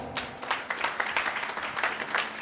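A crowd gives enthusiastic applause to welcome a singer onstage at a televised talent singing contest, with brisk, dense clapping lasting a couple of seconds and no speech over it.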